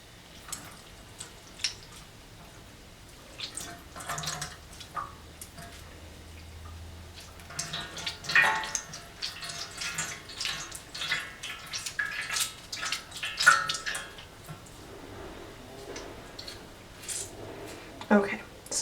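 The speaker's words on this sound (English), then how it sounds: "Let me squeeze the water out of this one right here." Freshly dyed yarn squeezed by hand to press out excess water, giving repeated soft wet squishes and drips at close range, with occasional talk around them.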